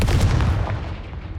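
Confringo spell blasts in Hogwarts Legacy, close booming bursts that hit hard and then trail off over about a second.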